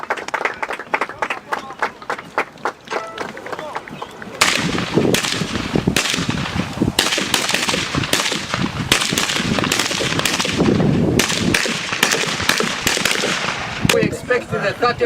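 Gunfire rounds crack out at a military training shooting range, starting as scattered shots and then thickening into dense, overlapping volleys that carry on steadily, with voices audible in the background.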